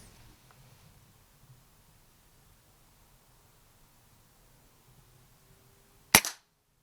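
A single sharp air rifle shot cracks out at night, aimed at a rat, after several seconds of near silence with faint background hiss.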